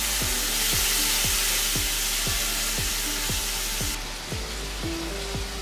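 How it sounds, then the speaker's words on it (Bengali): Ground spices with turmeric and dry chili powder sizzle loudly and steadily in a pan with a little water, a continuous close frying hiss broken by regular scraping stirs, with no talking. "এবার সামান্য জল দিয়ে আমি মশলাগুলো ভালো করে কষিয়ে নিই।"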